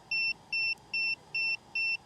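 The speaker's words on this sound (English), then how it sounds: "see if that stops this annoying beeping" Five evenly spaced electronic beeps from a DJI Inspire 2 drone's remote controller, each a short steady tone repeating about twice per second over faint background hum.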